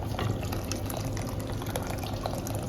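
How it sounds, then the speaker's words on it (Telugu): Water pours steadily into a pot of thickened dal, a continuous close splashing and gurgling fill with no pauses. "ఇప్పుడు చిక్కగా చేసిన ఈ పప్పులో వాటర్ వేసేయండి"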